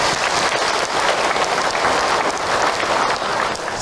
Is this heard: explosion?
no